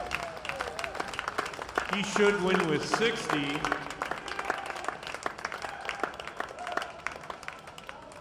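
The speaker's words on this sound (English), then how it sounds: "Let's have a big round of applause for all of our men, 35 to 44." Crowd applause at the Masters Track World Championships velodrome, steady scattered clapping in a large indoor arena beneath an announcer's voice, with a brief swell in the middle.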